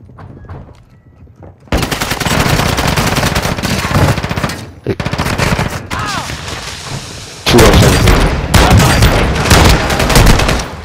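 Loud, sustained bursts of rapid automatic gunfire from a video game, in long continuous stretches broken by brief pauses, with a quieter lead-in at the start.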